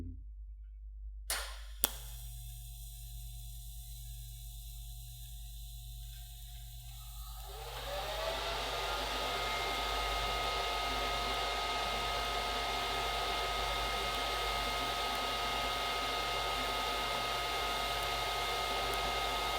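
After a brief quiet start with a couple of clicks, a welding arc ignites and then crackles and hisses steadily while filler metal is dipped into the puddle, an even, sustained sizzle close by.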